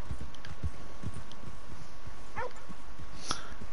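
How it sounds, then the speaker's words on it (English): In the video game Red Dead Redemption 2, a dog gives a short yelp and whine over steady horse hoofbeats, with one more brief bark near the end. "I love that dog."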